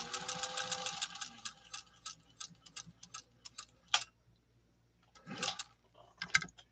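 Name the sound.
Singer 201-2 sewing machine stitching cork material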